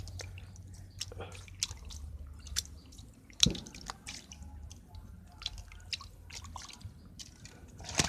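Freshly harvested homegrown bean sprouts rinsed in water, with soft scattered drips and splashes, wet squishing and a sharper splash near the middle, close and fairly quiet with no voices.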